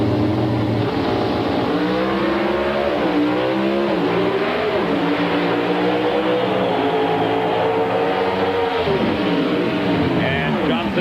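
NHRA Pro Stock drag race cars at the 1996 Winston Invitational accelerate hard, with engine notes climbing in pitch, dipping at shifts and climbing again, continuous and loud under a commentator's voice.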